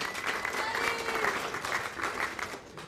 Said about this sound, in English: Round of applause for Buddy, the mayor, of course.